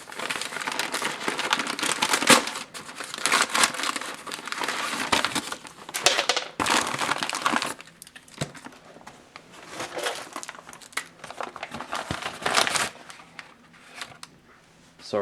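Foil-lined brown paper packaging of a 2012 Canadian IMP ration (Menu 11, beef stroganoff) being torn open and shredded, with loud crinkling and ripping bursts through the first half, then quieter intermittent rustling.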